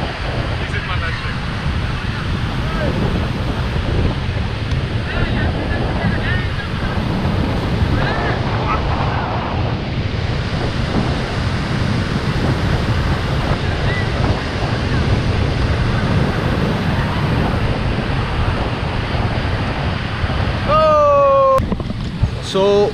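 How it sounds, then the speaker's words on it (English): Steady roar of surf and strong wind at Baga beach in Goa, continuous and loud with heavy buffeting on the microphone throughout, and a brief high squeal near the end. "So we are at the Baga beach now."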